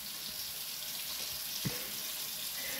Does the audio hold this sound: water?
yes